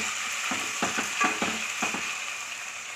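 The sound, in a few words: frying mushroom biryani curry in a pan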